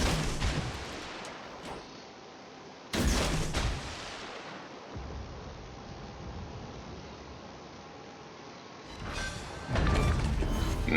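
Naval guns fire in a warship video game, with heavy booming salvos at the start, in the middle and again near the end, and a low rumbling tail between them.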